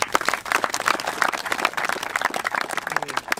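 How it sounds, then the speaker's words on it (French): Audience applause at a French football talent-detection event in Châteauroux, dense scattered clapping held steady for a few seconds in a room. "Donc ça, on peut l'applaudir également."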